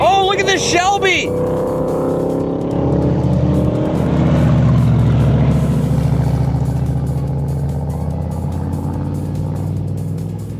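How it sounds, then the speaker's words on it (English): A Shelby's engine revs loudly nearby, a deep throaty roar that climbs and settles into a sustained rumble, following a brief burst of squealing at the start, with people talking over it. "Oh, look at this Shelby!"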